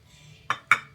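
A cooking pan for boiling milk is handled in a home kitchen, giving two sharp metallic clanks in quick succession over a quiet background.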